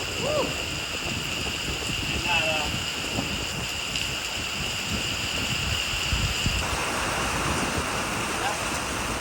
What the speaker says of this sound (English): We'll just probably wait this rain out for a little bit.